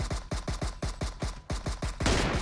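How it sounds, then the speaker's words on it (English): Gunshots fire in rapid succession in a PC aim training game, roughly a dozen sharp, close, evenly spaced cracks, ending in a denser burst of noise. "fourth shot, fifth shot, sixth shot, seventh shot"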